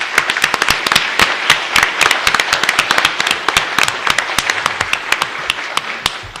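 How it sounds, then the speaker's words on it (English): An audience at a city council meeting applauds the fire department with fairly loud, dense, irregular clapping that carries on steadily with no talking. "How about a round of applause for our firemen?"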